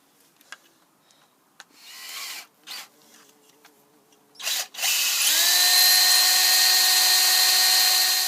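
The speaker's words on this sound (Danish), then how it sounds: "så tager du og borer et lille hul i den her plade her" An electric drill bores a small hole in a plate for a bicycle project, starting with a few short clicks and brief bursts before settling into a loud, steady high whine that runs continuously to the end.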